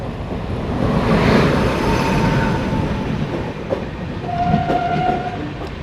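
A WAP 7 electric locomotive hauls a train along a scenic route in Assam, its wheels rumbling and clattering loudly and close by, with a brief horn-like tone sounding near the end.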